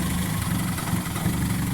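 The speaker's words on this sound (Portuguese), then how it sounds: "Esse barulho desse motor aí, Corolla, desse modelo aí." Engine of a 2004 Toyota Corolla idling steadily up close, a continuous low rumble with a faint rattle attributed to a worn timing chain, no talk over it.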